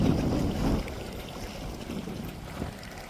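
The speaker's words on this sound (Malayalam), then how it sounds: "ഒരു ഹൗസ് ബോട്ട് വരുന്നുണ്ട് ഗൈസ്." A houseboat passes on the Kumarakom backwaters, a steady low rumble of engine and water wash close by, strongest at the start and then easing into a continuous churning murmur with no talk.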